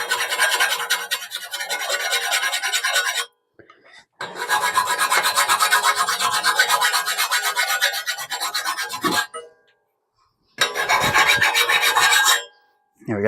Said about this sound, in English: Whiz it off with the grinder, finish it off with the file.